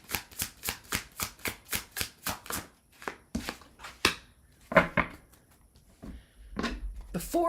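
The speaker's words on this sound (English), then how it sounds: "Let me finish pulling the cards before I speak." Tarot cards are shuffled and pulled in a quick run of crisp riffling flicks, then a few slower card slaps with brief speech near the end.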